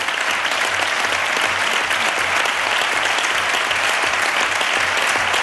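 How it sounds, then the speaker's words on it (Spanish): Andalusian Parliament plenary applauding a member returning after months of serious illness, a loud, sustained wall of clapping from the chamber with no break and little speech. "Sí, aplauso del Pleno a Antonio Maillo después de 3 meses y medio sin acudir ahí por enfermedad grave."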